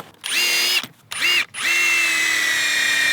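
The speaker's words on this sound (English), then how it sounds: "we use pre-drills anytime we're doing pressure blocking and stuff like that, just so we don't crack anything" A power drill bores pilot holes in wood for pressure blocking on a deck, running in three close, loud bursts with brief pauses, the last burst held longest, and no talk.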